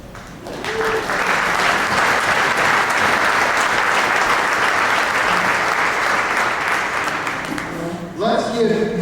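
Sustained applause from an audience at a military salute event, loud and steady for about seven seconds before it fades and a voice begins speaking.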